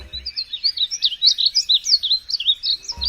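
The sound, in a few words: songbird singing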